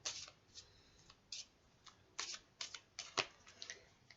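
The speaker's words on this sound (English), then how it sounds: "I'm going to give those a little shuffle" Tarot cards being shuffled by hand, a run of soft papery riffles and flicks coming in uneven bursts, close and quiet with no talking.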